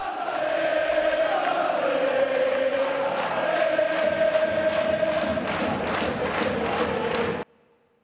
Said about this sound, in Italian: Questa è la festa dei tifosi biancorossi al 91esimo